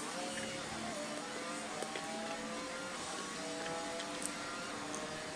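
Simulated Formula One car from the F1 2012 game lapping a wet Kuala Lumpur circuit in the rain, a steady droning engine tone with shifting pitch and constant spray-like hiss throughout, loud and continuous with no voices.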